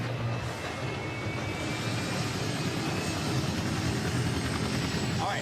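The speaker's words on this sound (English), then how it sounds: "I'm in the chopper, coming your way." A video game helicopter drones with a steady, dense rotor and engine roar that fills the whole stretch without pause, while a player's voice sits faintly beneath it.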